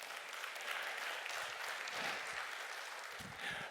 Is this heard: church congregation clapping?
yes